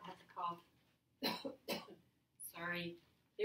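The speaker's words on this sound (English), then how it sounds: "oh, I have to cough." A teacher coughs during a recorded class lesson, a couple of short, close, dry coughs with spoken words just before and after.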